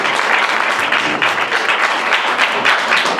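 A crowd applauding steadily at a FameLab science talk competition, dense clapping that stays even throughout.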